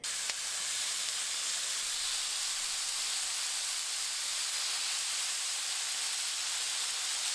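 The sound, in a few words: carne asada beef searing on a medium-high burner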